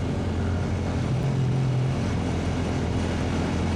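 A Yamaha TFX 150 motorcycle with a quick throttle runs under way, its engine making a steady, loud, dense drone mixed with wind roar, with no talking over it.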